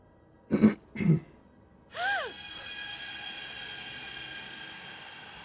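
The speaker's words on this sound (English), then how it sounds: "I was coughing at the time." Two sharp coughs close together, followed by a throat-clearing rasp, then a steady background hum, in the horror video game Five Nights at Nothing.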